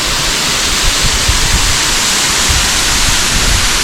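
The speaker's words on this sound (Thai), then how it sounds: "ตอนนี้ฝนตกลินลินแล้วนะคะ" Loud, dense, steady hiss of light rain falling on forest foliage in Akatarawa Forest, New Zealand, with soft patters underneath and no breaks.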